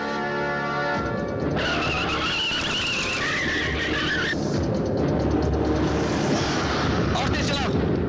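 A car speeds along with squealing, skidding tires in a Hindi action thriller film starring Rekha and Mithun Chakraborty. A loud, steady engine roar carries a shrill tire squeal, and other background noise runs throughout.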